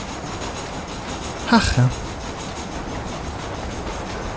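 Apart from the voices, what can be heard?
moving train in video game Red Dead Redemption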